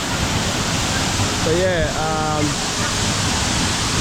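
Steady, dense roar of rushing water from a powerful waterfall in Bali, continuous throughout, with a brief voice talking over it partway.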